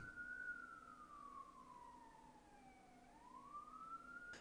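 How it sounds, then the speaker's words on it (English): Emergency vehicle siren wailing outside, a single sweeping tone that falls slowly and then rises again, moderately distant and steady over a faint background. "You guys can probably hear the sirens out."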